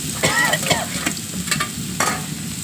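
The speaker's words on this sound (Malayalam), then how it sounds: "ഇനി പായപ്പൊക്കെ നമുക്ക് അങ്ങോട്ട് വറുത്തെടുക്കണം അത് വറുത്ത് എടുക്കണം" Bitter gourd pieces fry in hot oil with a steady crackling sizzle and several sharper stirring scrapes across the pan, close and fairly loud throughout, with no talking.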